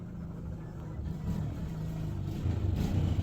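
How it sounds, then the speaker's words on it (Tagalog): A motorcycle passing by outside a small store, its faint engine drone swelling gradually and growing louder toward the end, with no talk. "Kabati ka tong motor nak."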